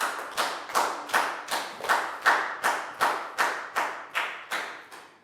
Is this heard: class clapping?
yes